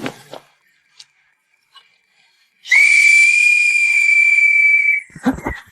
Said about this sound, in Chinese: 我这一吹哨，是告诉巷子里的人，该往安全的地方挪一挪